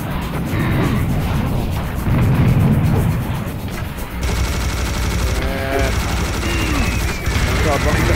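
Rocket launcher firing in Serious Sam First Encounter HD, heavy repeated blasts and explosions mixed with dense gunfire and game noise, loud and continuous, with a voice in places.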